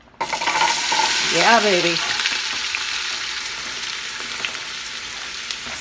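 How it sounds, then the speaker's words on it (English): Loud crackling sizzle as carrots, celery and onion hit hot olive oil in a pan, steady and close, with a brief excited voice over it. "My carrots, celery, and onion go into the heated up pan with the olive oil on it."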